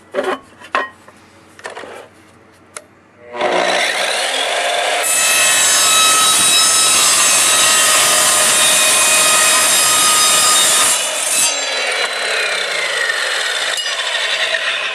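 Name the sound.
Evolution Rage3 sliding miter saw cutting aluminum tubing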